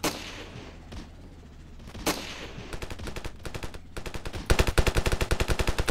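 Gunfire in the Ravenfield video game: a few scattered single shots give way to rapid automatic bursts that grow louder and denser, ending in a fast, punchy stream of close fire.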